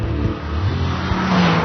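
A BMW E30 M3 drives along narrow country lanes, its engine giving a loud, steady, close-up drone that rises slightly in pitch toward the end, with no talking over it.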